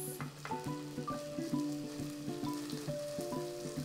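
A large potato and onion cake sizzles steadily as it fries in a pan. A constant crackling hiss is broken by light rhythmic clicks and taps, heard close and on its own.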